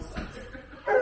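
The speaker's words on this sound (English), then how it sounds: "Silly dogs." Dogs barking indoors, a few short yips and bow-wow barks mixed with speech, the loudest bark coming at the end.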